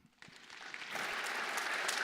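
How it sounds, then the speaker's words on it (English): Applause at a hackathon opening ceremony starts with a few scattered claps, then swells quickly into steady clapping from a crowd that continues to the end. "Please, a round of applause."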